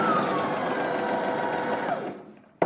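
Sewing machine stitching fabric during a tailoring class, a steady close whir running continuously for about two seconds before slowing and stopping, followed by a sharp click.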